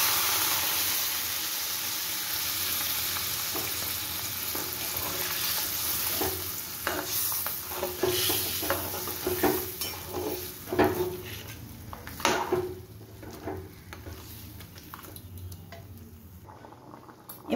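Giant river prawn malai curry sizzling in a pan after coconut milk goes in, with steady frying hiss and repeated scraping stirs of a utensil against the pan, growing busier toward the end.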